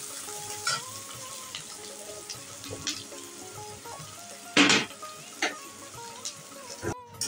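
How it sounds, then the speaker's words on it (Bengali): Onions for chicken do pyaza sizzle steadily in a pan, broken by a few louder scraping stirs, with a faint melodic tone running underneath. "পেঁয়াজটা একটু লাল করে ভেজে নিতে হবে"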